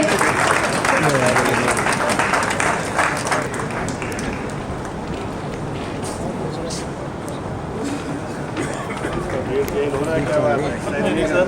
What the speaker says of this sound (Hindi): रवि कुमार जी कृपया मंच पर आएं। जोरदार तालियों से स्वागत कीजिए।